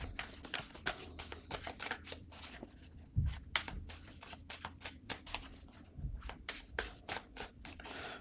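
Tarot cards are shuffled by hand in a quick, continuous run of crisp riffling and sliding flicks, close and fairly quiet with no talking.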